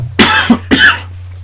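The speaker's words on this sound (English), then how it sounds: "now I'm coughing up a storm" Two loud, harsh coughs from a single person, close and clear, the second following a brief pause, with a low steady hum running underneath.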